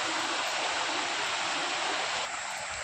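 Falling water at Sawatsada waterfall, Chiplun, during the monsoon with lower flow, makes a constant broadband roar that eases slightly near the end, with no one talking.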